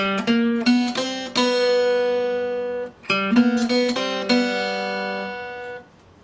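Guitar plucking a short phrase from a riff, bright ringing notes struck in two clustered groups with a brief pause between, each note sustaining and decaying cleanly, close and alone.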